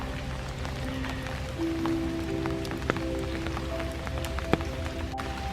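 Steady rain falling on a wooded park summit on a dark, foggy morning, a close, even patter with occasional sharper drops striking nearby surfaces.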